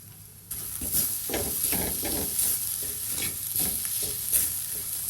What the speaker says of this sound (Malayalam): അപ്പം നമുക്കിനി ഇതൊന്നുകൂടെ വഴറ്റിയെടുക്കാം